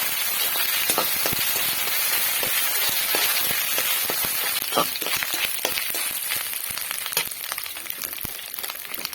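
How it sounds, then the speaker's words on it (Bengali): Dried loitta fish with ginger-garlic paste sizzles in a pan as it is stirred, a dense continuous frying hiss dotted with frequent scraping clicks of the spatula, close and unbroken. "সবগুলো ভালোভাবে এবার নেড়ে চেড়ে নেব।"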